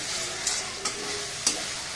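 Potatoes being stirred and fried in a pan for a fish curry, a steady close sizzle broken by three quick scraping stirs.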